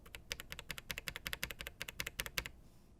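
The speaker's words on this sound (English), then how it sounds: "But here's a Novel Keys cream." Quick, close, steady clatter of about two dozen presses on a Novel Keys Cream mechanical keyboard switch, crisp clicky taps in a fast even rhythm, heard alone.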